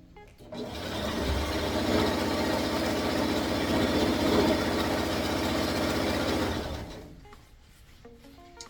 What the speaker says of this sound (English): I'm gonna go ahead and start sewing this